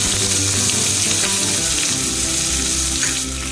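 Chopped onions sizzle loudly in hot oil alongside mustard seeds and urad dal, a dense, steady close-up frying hiss that carries on without a break.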